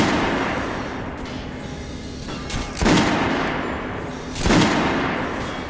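Guns fired at a shooting range in the video game Metro: Last Light: two heavy, booming shots a couple of seconds apart over a dense, rumbling background.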